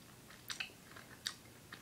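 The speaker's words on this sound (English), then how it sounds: "I'm going to chew it more aggressively." Sour triple bear gummy candy from Vidal being chewed hard up close, a few soft wet crunching bites spaced irregularly over a quiet background, with no talking.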